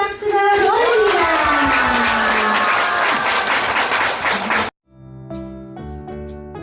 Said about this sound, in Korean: 오늘도 신님께 감사의 큰 박수를 올립니다